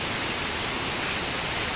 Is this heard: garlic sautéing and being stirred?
no